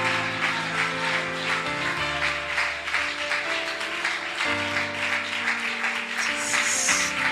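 A church congregation claps in rhythm during a Malayalam Christian sermon, with steady repeated claps running throughout over sustained music.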